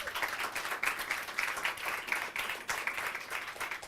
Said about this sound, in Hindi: ताली मारो उसको।